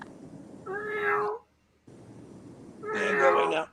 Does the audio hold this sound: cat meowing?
yes